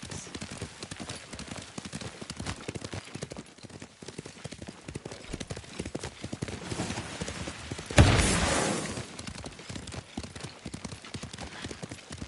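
Horse hooves clip-clop steadily throughout a ride in the Ghost of Tsushima video game, a continuous rhythmic patter with a brief louder whoosh or impact partway through, faint speech underneath.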